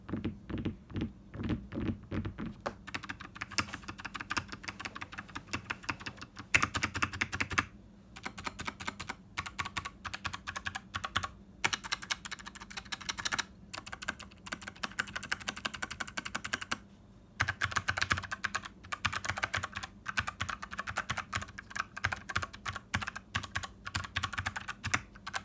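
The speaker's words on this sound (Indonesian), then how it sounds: "sekarang kita langsung aja dengar typing soundnya seperti apa." Typing on a Noir N1 V2 mechanical keyboard fitted with Gateron Brown switches: rapid, close, continuous keystroke clacks in uneven bursts, with a few brief pauses between runs and no speech.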